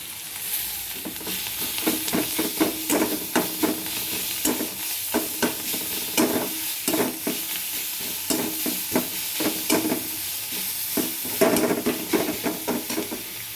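Onion and garlic frying in a pan for a pointed gourd and prawn dish, a continuous close sizzle broken by repeated scraping strokes of a spatula stirring against the pan, no talk.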